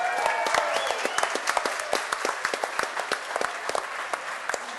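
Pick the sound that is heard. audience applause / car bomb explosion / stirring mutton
audience applause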